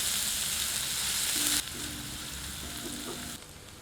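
Onions frying in a pan over medium heat, with black cumin already in the oil, for a restaurant-style chicken lababdar. A steady, close broadband sizzle runs throughout with no talk, easing slightly in level partway through.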